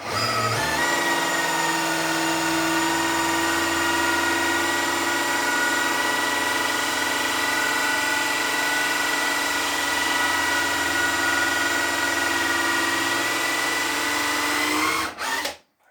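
A power drill cuts a 3/4-inch tenon into tough white oak for a handmade rocking chair, whining loud and steady with a high mechanical pitch for the whole stretch before spinning down abruptly at the end.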